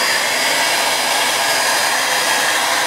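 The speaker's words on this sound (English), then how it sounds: "not completely cool air, but warm air as the blow dryer is cooling down" An MHD professional hair dryer on a low setting blows warm air as it cools down, making a loud, constant rushing roar from start to finish.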